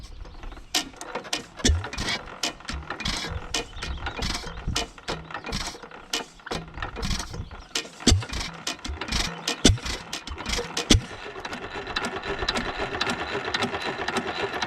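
Antique log saw engine built around 1912 running steadily, with repeated mechanical clanks and clicking strokes in an uneven rhythm alongside gear and ratchet-like rattling, close and fairly loud.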